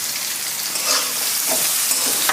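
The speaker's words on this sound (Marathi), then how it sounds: "कांदा टाकायचा आणि कांदा लालसर होईपर्यंत परतून घ्यायचा" Chopped onion sautéing for noodles in a pan over full gas flame, giving a steady loud sizzle with brief crackles and stirring scrapes throughout.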